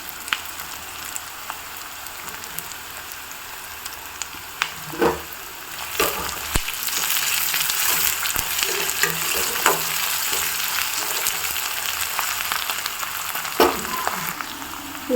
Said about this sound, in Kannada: ನೆಕ್ಸ್ಟ್ ಇದಕ್ಕೆ ಕರಿಬೇವು ಸೊಪ್ಪನ್ನು ಆ್ಯಡ್ ಮಾಡ್ಕೊಳ್ಳೋಣ